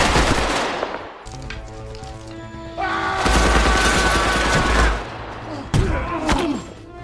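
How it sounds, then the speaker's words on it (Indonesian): Gunfire in an action film fight scene, with rapid automatic bursts and heavy booming shots layered over dramatic score, loud and close, with sustained volleys and sharp impacts. "yang akhirnya ia menembaki John"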